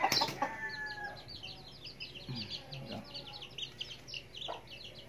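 Several chickens cluck and murmur nearby in short, irregular bursts, with soft background noise around them.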